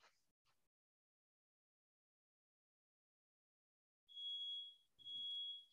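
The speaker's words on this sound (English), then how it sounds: "sounds like we got an alarm or something going off in my house." A household smoke alarm, set off by a blown-out candle, sounds two loud piercing electronic beeps in a row inside a house after a few faint brief noises and a long silence.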